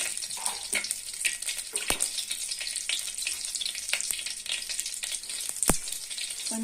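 Mustard seeds and cumin sizzle in hot oil for a ridge gourd chutney. A steady frying hiss is broken by sharp, scattered pops and crackles, close and fairly loud.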